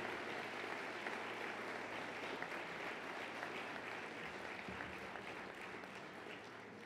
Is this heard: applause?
yes